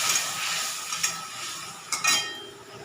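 Tomatoes hiss and sizzle in hot oil in a pan, with a soft steady fry, a few faint clinks of a utensil against the pan and brief louder stirring scrapes near the end.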